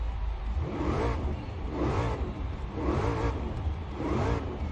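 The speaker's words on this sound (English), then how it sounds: "The V8 over here definitely doesn't sound like the other two" Ford Mustang V8 heard from the cabin in Forza Horizon 4, the engine revving in a steady rise-and-fall cycle four times, a smooth mid-pitched drone that swells and eases without any voices.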